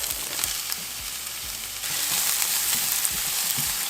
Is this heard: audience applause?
no